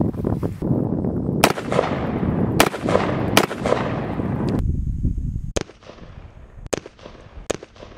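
Gunshots firing tracer rounds: several loud, sharp cracks spaced a second or so apart, each trailing off in a long echoing decay, then quieter, more distant-sounding shots follow, with no talk.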